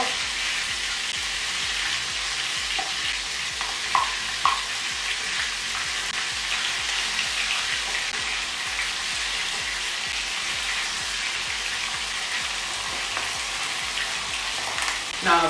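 Malaysian potato patties (bergedil) fry in a milk pan with a steady, even crackle and hiss of oil throughout, a few faint utensil clicks here and there; close, with no talking.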